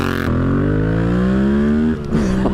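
A Yamaha MT-07 motorcycle engine pulls hard under acceleration, its tone rising steadily through a gear before a brief dip at a shift, then carrying on, loud and close.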